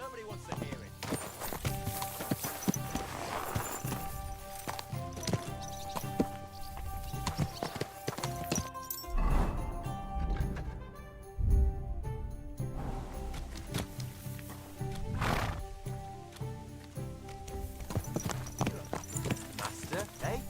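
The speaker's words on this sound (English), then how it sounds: "Saddle your horse and get ready." Horse hooves clip-clop steadily on the ground in the medieval game Kingdom Come Deliverance 2, mixed with in-game music, an occasional whinny and sporadic talk.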